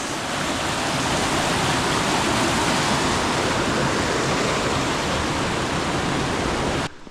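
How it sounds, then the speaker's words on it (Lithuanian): Small mountain waterfalls and streams in the Carpathian Mountains rush continuously, a dense, steady broadband roar of flowing water heard alone until it cuts off at the end. "Kriokliukai, upeliukai."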